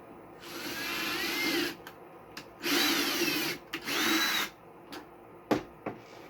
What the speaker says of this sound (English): I should make a note of which drill bits I use